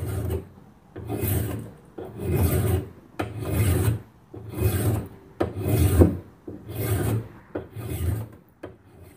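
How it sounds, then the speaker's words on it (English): Strip of 120-grit sandpaper rubbed over the corners of a knife made from a saw blade, a close, loud rasping scrape in eight steady back-and-forth strokes with short pauses between, no talking. "I just tore off a strip of 120 sandpaper, and let's round out those corners."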